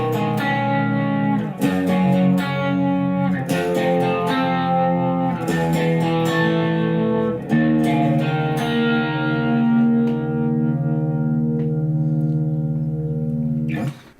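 An electric guitar plays chords and sustained notes through a heavy down-tuning effects patch, with a thick, chorused, slightly distorted tone ringing out.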